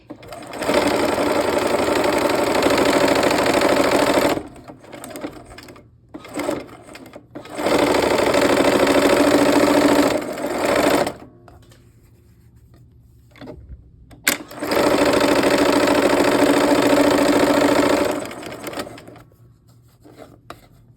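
A sewing machine stitches quilt block pieces into rows in three long, steady runs of rapid whirring, separated by short quiet pauses with a few brief stops and starts.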